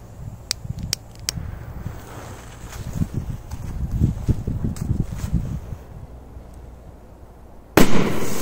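Several sharp firecracker pops crack out early, followed by crackling bursts and a final loud bang near the end, outdoors with some wind.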